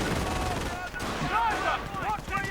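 Rapid video game gunfire from a machine gun and snipers in a 2v2 strategy battle, dense overlapping shots and bursts with a voice commentating over them throughout.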